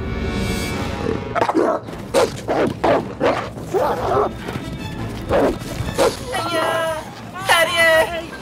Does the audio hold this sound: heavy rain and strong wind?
no